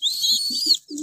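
Pigeon giving a few short low coos nearby, with a thin high whistle-like tone over it, brief and fairly loud.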